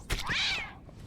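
A cat in The Witcher 2 gives a single close, clear meow, rising and falling over about half a second after a soft thump.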